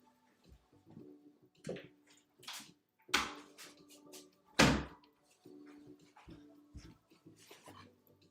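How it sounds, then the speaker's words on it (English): A door in a house is pushed shut with a firm thud, preceded and followed by scattered handling knocks and footsteps in a quiet room. "I gotta go close this door real fast so I'm not interrupting the rest of the house."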